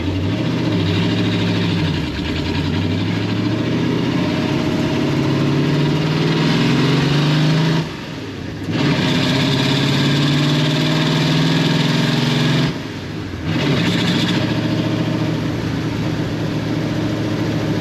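A 1933 Ford street rod engine drones steadily with a low rumble on the highway, dipping briefly twice as the driver shifts gears in the manual transmission, then pulling again; no one speaks.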